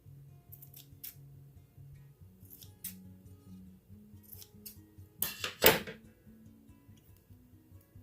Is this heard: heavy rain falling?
no